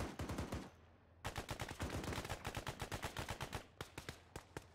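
Rapid bursts of gunfire crack in quick succession at a distance, sounding fairly faint, with a brief gap before the shots resume in a fast, irregular stream.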